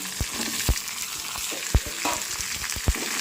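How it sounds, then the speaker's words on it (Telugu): Cut tomato and onion frying in a pan with ginger, a steady close sizzle broken by a few sharp stirring scrapes and clinks. "ఇలా ఫ్రై అవుతున్నప్పుడే మనం కట్ చేసుకున్న టమాటా ఆనియన్ వేసుకున్నాం"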